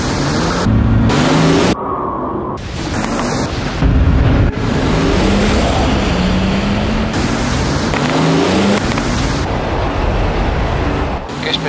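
A new BMW X5 SUV drives fast off-road on sand in Morocco, its loud engine climbing in pitch through repeated gear changes over steady roaring wind and tyre noise.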